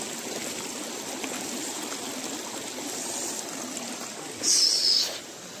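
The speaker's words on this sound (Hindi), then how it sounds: "यहाँ से पानी निकल रहा है और मैं अपने पैर धो रही हूँ।" Cold water from a hillside spring in Pauri Garhwal trickles and flows steadily nearby, with a brief high bird-like chirp near the end.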